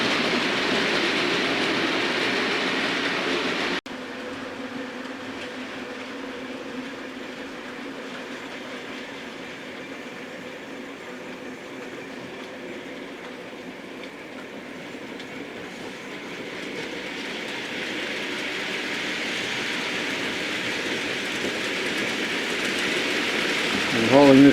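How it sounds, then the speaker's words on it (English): Black 5 steam locomotive 45157 hauling a train from Water Orton to Glasgow past Dent, a long steady rumble and rattle of wagons rolling by at moderate distance, fading slightly then rising again near the end. "And hauling the train is Black 5 again, it's 45157 Glasgow Highlander."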